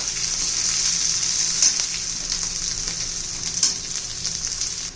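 Garlic cloves, green chilies and ginger sautéing in a pan, a bright, steady sizzle with occasional spatula scrapes and stirring clicks, no one speaking.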